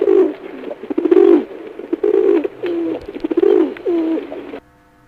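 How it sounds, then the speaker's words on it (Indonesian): A dove coos in a repeated series of soft, rounded calls, close and clear against a quiet background, with short pauses between phrases. "Dove,"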